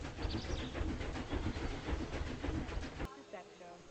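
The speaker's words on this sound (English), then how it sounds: "The train go vroomin'." A train in the game Planet Zoo rumbles along at low volume, with rhythmic clattering and a rolling hum that cuts off abruptly near the end.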